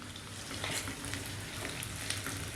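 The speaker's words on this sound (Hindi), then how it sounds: "फ्लेम को मीडियम रख के आलू को हमें फ्राई करना है लहसुन के साथ" Potatoes frying with garlic and a broken green chilli in a pan over a medium flame, a continuous close sizzle with crackles and stirring scrapes and no talk.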